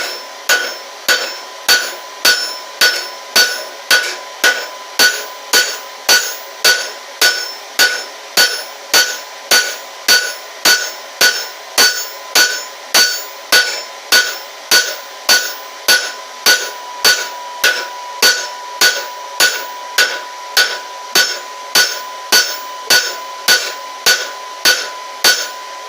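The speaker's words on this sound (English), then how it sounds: "put it on the flat behind our mark, half on, half off hammer blows" Hammer blows forge metal stock on an anvil face in a steady, even rhythm of sharp ringing strikes, about two per second and loud and close, continuing unbroken throughout.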